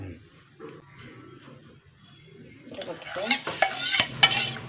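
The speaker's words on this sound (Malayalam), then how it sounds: "വെളിച്ചെണ്ണ ഒഴിക്കുക ഞങ്ങളുടെ ഉരുളക്കിഴങ്ങ് തീയലിന് വേണ്ടി തേങ്ങ ഒരു മുറി അതൊന്ന് വറുത്തെടുക്കട്ടെ" Grated coconut frying in coconut oil for potato theeyal, stirred with a utensil: quiet at first, then close, steady sizzling with repeated scraping strokes that grow louder toward the end.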